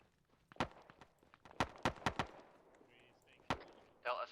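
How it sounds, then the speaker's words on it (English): Suppressive gunfire during an island assault in Arma 3, sharp separate shots at varied moments, one lone crack, then a quick cluster of four, then another, over a quiet background, with a voice briefly at the end. "Delta, give some suppressive fire as we're moving up."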